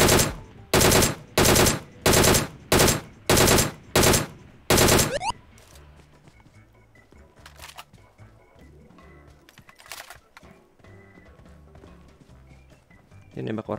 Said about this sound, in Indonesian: Ini nembak orang di arah sono.